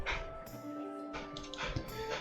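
A dog in the Noctasia video game whimpers and yips in short, high, whining bursts over faint background music, close and fairly quiet.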